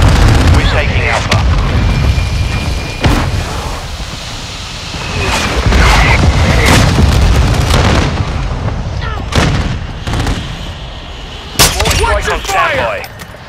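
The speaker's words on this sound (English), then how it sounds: "Mortar strike inbound now." Mortar strike explosions and heavy gunfire in Call of Duty: Modern Warfare II Domination on the Shipment map, loud and continuous booms with dense battle noise and voice callouts throughout.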